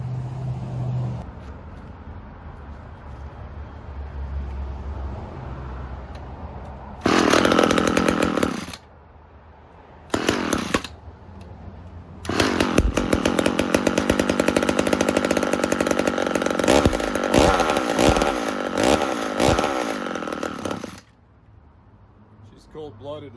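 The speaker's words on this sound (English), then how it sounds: "But for what they are, great little saws." A vintage McCulloch Mini Mac 35 chainsaw runs close and loud in several bursts, with short pauses between revs and a long sustained run, while a person talks at times.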